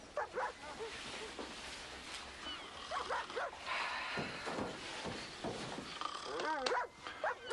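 A dog barks and whimpers in short yips close by, mixed in with people talking over it throughout.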